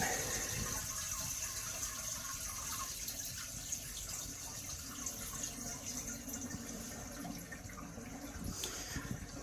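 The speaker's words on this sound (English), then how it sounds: "Turn off the water. Flush the commode." A toilet with a faulty tank that runs but won't fill is flushed, giving a steady close-up rush of water that keeps going without a break, with no talking.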